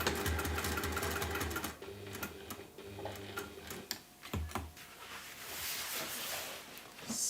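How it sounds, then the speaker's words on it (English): Sewing machine stitching across the end of a wax tote bag, running in close, rapid bursts with a ticking mechanical rhythm, pausing briefly between runs and then restarting. "I'm going to sew across that end, so that's not going anywhere."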